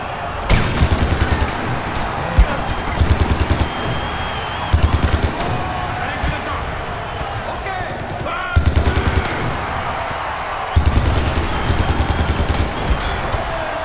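Automatic gunfire in Far Cry 4 during the mission The Mouth of Madness, played on PC: loud, close bursts of rapid machine-gun fire, repeated several times with short pauses between.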